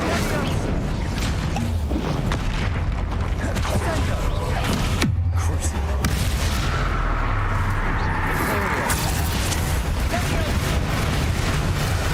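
Incendio fire spell cast in the Hogwarts Legacy video game, a dense, loud blast of crackling, whooshing and booming impacts layered over continuous game action, with voices speaking throughout.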